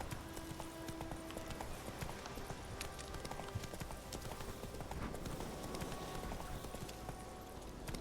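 Galloping horse hooves drum steadily in The Witcher 3 video game, a fast, continuous clip-clop close up under a low ambient music bed.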